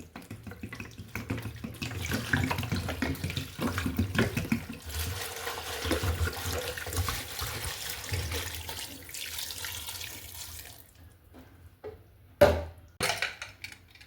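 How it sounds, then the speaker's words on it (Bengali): Tap water runs steadily into a pot of chicken stock seasoned with Thai leaves, salt and black pepper, a continuous splashing fill that thins out near the end, followed by a couple of brief clunks. "এবার পানি অ্যাড করে দিচ্ছি।"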